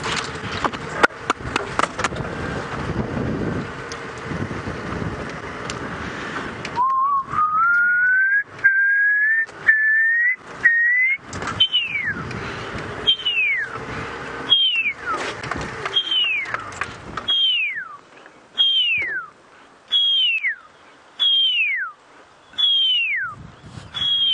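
A person whistles a series of descending owl-like calls imitating an owl, each a short sliding hoot repeated at steady intervals, after some rustling movement at the start, during a sunrise safari drive.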